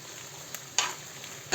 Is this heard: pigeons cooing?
no